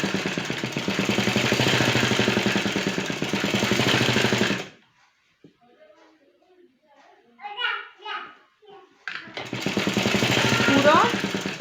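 An electric sewing machine stitches palazzo trousers in loud, rapid buzzing bursts, running for several seconds, stopping for a quiet stretch with someone speaking, then starting up again.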